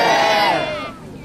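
A large crowd gathered around a street performer shouts a loud, unified "yeah" that swells at once and then fades into scattered voices.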